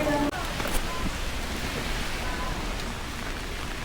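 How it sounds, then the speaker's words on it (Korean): Heavy rain falls in Jeju as a dense, steady hiss that stays even for several seconds, with one faint tap near the start. "비가 엄청 많이 오네"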